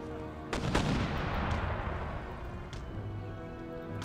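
Garrison mortar artillery fire in Empire Total War, with a couple of sharp reports followed by a rumbling, sustained battlefield roar of distant cannon and gunfire.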